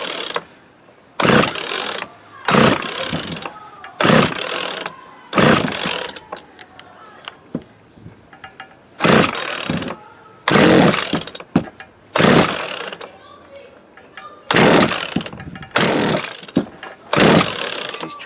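A 20-year-old Poulan Pro 220 chainsaw that sat unused for 10 years is pulled over and over, giving repeated loud bursts of ratcheting, sputtering effort with short pauses between pulls and no steady running.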